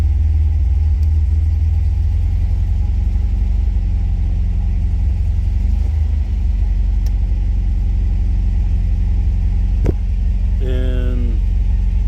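A 1967 MGB-GT engine idling at about 1500 rpm, a steady low rumbling drone heard up close, with a brief click and a short voice near the end.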